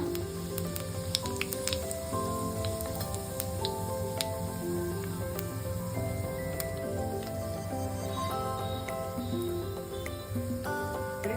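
Chana dal, urad dal, mustard seeds and cumin sizzle in hot oil for a chutney tempering, a steady close crackle and hiss with small pops and faint music underneath.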